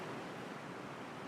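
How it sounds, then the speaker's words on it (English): Bright Angel Creek in the Grand Canyon rushing steadily, a dense even wash of flowing water that stays constant and fairly faint throughout with no voices. "We're right next to Bright Angel Creek stream. You can probably hear it in the background."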